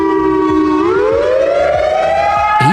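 A loud civil defense siren wails, its tone sliding upward and holding high, with a rhythmic low pulsing beneath.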